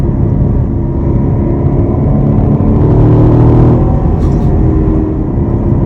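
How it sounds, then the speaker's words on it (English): A car engine pulling hard in third gear under throttle, a loud continuous rumbling drone that swells slightly mid-way, heard from inside the vehicle with no talking. "we can downshift, third gear on the gas"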